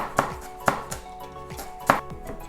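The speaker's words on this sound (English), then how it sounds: "let's begin by chopping up our spring onions" A knife chops spring onions thinly on a cutting board, with sharp distinct thuds at an uneven pace, close and clear with no talking.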